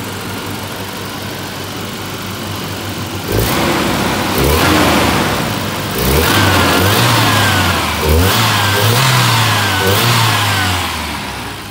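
A 1985 Volvo 240 station wagon with 317k miles accelerates on a test drive, heard from inside: steady road hum, then the engine revs up and shifts through gears in several rising pulls, loud and close.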